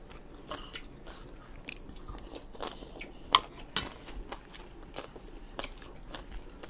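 Someone bites into pickled hog plum (makok), still crisp: close, quiet chewing with several sharp crunches clustered in the middle, over a soft room murmur.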